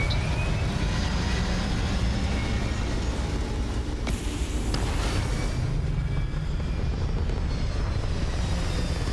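A spaceship's engine roars continuously on takeoff in the video game Starfield, a dense, loud rumble that swells and shifts slightly midway through.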